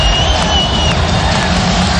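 Packed arena crowd at an NBA playoff game between the Atlanta Hawks and Boston Celtics, a steady loud roar and babble of thousands of fans filling the building without pause.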